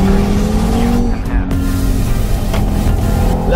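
An Audi RS3 with 650 Nm of torque accelerating hard, its engine note rising loud and close in a continuous surge with a brief gear-change dip midway.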